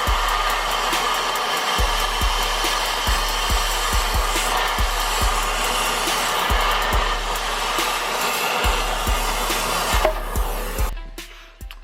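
Cutting torch burning off a stuck nut, giving a loud, continuous roaring hiss throughout, with repeated low pops or thumps at roughly regular intervals, before it tapers off at the end.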